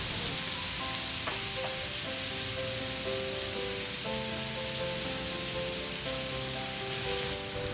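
Cooked instant noodles and blanched squid stir-fried in a hot pan for Thai drunken noodles, a loud continuous sizzle and crackle with occasional scraping stirs, steady from start to finish.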